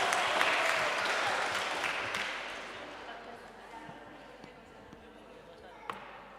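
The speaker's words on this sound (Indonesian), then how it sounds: "Berikan tepuk tangan meriah untuk para peserta kita." An audience claps loudly, the applause gradually fading over several seconds, with a single sharp thump near the end.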